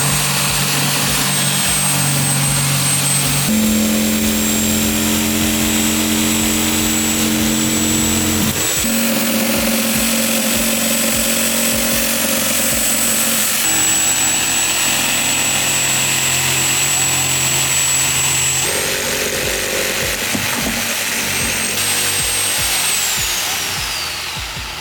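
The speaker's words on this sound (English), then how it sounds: "the only tool I have here that is good enough to cut wood is a sawzall, this thing" A sawzall reciprocating saw cuts through hardwood flooring with a loud, continuous buzzing drone that shifts pitch in steps as the cut goes on, close by and unbroken for the whole stretch.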